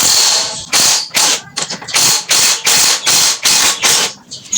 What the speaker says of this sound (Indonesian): Bagian kanan kita kendorin dulu bautnya dengan kunci